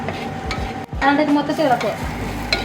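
Fish curry with coriander powder is stirred in a pan with soft scraping strokes over a low sizzle, close by.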